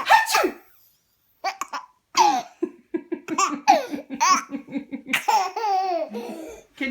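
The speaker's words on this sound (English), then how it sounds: "Sneezes are loud." A young child laughs and lets out a loud, playful sneeze among bursts of giggling, with an adult voice joining in close by.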